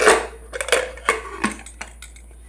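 A metal pressure cooker lid goes on a pot of village-style mutton curry, a series of sharp clanks and scraping clicks, close and fairly loud, tapering into lighter taps.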